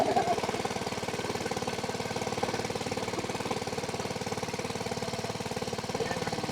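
Motorcycle engine running steadily while riding through knee-deep floodwater on a road, a fast even mid-pitched throb under broad watery noise, fairly close and continuous.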